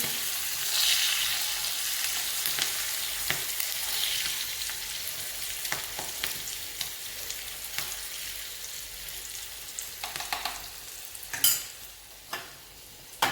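Green chillies and curry leaves sizzling in hot oil for nylon khaman, a steady bright crackling hiss throughout with occasional stirring clinks and a few louder spits near the end.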